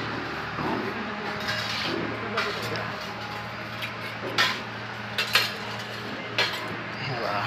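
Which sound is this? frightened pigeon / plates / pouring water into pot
plates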